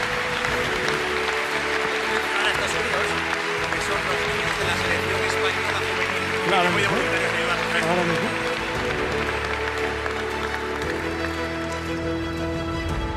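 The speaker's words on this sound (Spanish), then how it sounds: "Por favor, un fuerte aplauso para ellos." A hall crowd at a national canoeing gala applauds steadily and loudly for the honorees, a continuous wash of clapping running the full length while an announcer speaks over it and music plays underneath.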